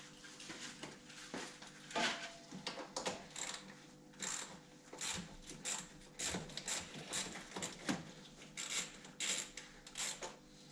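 Metallic clicks and ratcheting from an 8 mm wrench loosening the battery terminal on a Ford Mustang Bullitt 4.6L 3V, a close series of irregular sharp taps and clinks with no talking.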